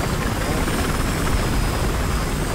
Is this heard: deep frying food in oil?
no